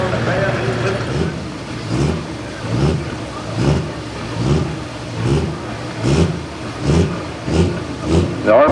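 A pulling tractor at a truck and tractor pull in Boonsboro revs up in repeated rhythmic surges, roughly one per second, the engine note rising and falling steadily and fairly loud.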